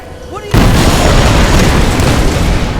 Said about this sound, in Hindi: पर्सनल फेवरेट मेरा जब मैंने एक रूम को धमाके से उड़ा दिया